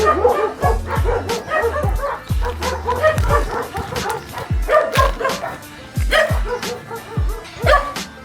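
A dog with epilepsy barks and yips repeatedly in quick, uneven bursts, close by, with some whimpering between barks.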